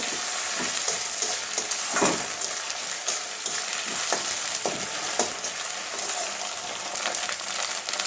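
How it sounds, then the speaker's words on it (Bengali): Ginger garlic paste frying in a pan, a dense, steady sizzle with occasional stirring scrapes and soft pops, close and continuous with no voices. "এবারে আদা রসুনের পেস্টটা দিয়ে দিচ্ছি একসঙ্গে পেস্ট করা আছে দেড় চামচ মতো দিলাম এটাও কাঁচা গন্ধ যাওয়া পর্যন্ত ভেজে নেবো"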